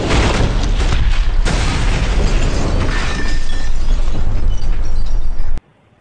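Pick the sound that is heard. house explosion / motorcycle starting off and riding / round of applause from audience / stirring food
house explosion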